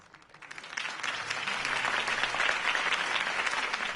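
A crowd at Harvey Dent's campaign rally breaks into applause after his speech, the clapping rising quickly from a quiet start into a loud, sustained roar of many hands.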